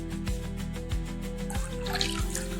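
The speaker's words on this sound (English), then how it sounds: "अब हम इसमें cleaning chemical ऐड करेंगे" Cleaning chemical is poured into the water tank of a 20-liter medical ultrasonic cleaner holding about 18 liters of water. A steady trickle and a few drips sit over a low, constant machine hum, close by, with no talking.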